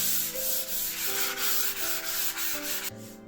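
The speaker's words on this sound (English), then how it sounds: "I'm going very lightly with like a 400 grit sanding pad, just to smooth a little bit any small imperfections" Light sanding of an old wooden side table with a 400 grit sanding pad, a steady rhythmic rubbing back and forth in repeated strokes, close and alone.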